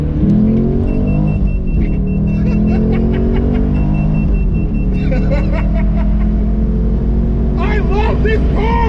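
A 2010 Chevrolet Camaro SS, a fifth-generation V8, pulls hard from inside the cabin, its engine rising loud through several gear changes, with someone talking over the roar.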